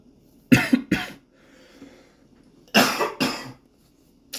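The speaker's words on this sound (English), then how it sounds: "My bad, I keep coughing." Two separate bouts of coughing, each a pair of harsh, loud coughs close to the mic, with a quiet pause in between.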